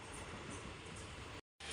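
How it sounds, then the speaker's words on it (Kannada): A train running along a railway track that cuts across a road, heard as a faint, steady rolling rumble with a continuous broadband wash that drops out briefly near the end. "ನೋಡಿ ಈ ರೈಲ್ ಹೋಗ್ತಿದೆ ಆಂಟಿ ಮನೆ ರೋಡಲ್ಲಿ"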